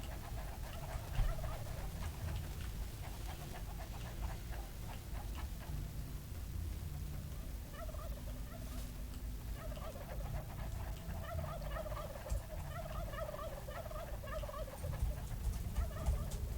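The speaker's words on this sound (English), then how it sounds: "Now we're going to push the turkeys into this corner." Turkeys in the video game Dungeon Defenders Redux gobble over and over in a steady chorus. The calls sit over a constant low rumble of game sound and run the whole time without any voices.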